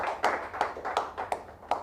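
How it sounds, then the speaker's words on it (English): Sparse, evenly spaced hand claps from an audience at a WHO Executive Board media address, about five sharp claps in under two seconds, fairly close and without talk. "Give them a standing ovation, my friends, by clapping loud and clear"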